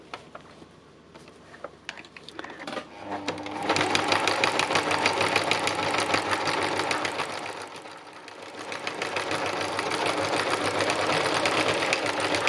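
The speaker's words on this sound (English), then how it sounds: "So I shall carry on stitching this" A sewing machine stitches fabric, starting with a few slow clicks and then running steadily in a fast, even mechanical patter for about nine seconds, briefly easing before picking up again.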